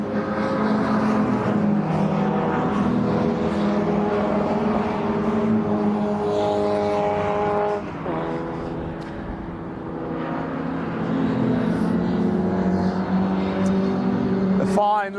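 MG Midget and Sprite race cars lap Brands Hatch during qualifying, with loud buzzing engine notes rising and falling as they pass and a brief lull midway, while a commentator talks over them.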